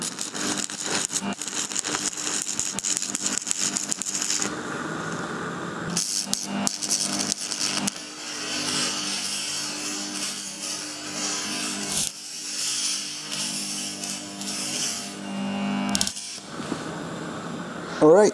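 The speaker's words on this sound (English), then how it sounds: "so now I can weld this other side." Welding a die cast exhaust manifold on a David Brown tractor: steady crackling, buzzing arc hiss runs through with brief breaks and restarts, close and continuous, with some talking.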